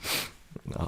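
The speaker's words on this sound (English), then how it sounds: "Every time when I'm sick, I sneeze like this." A person sneezes once, a sharp airy burst followed by a short breathy snort and sniffle, close to the listener.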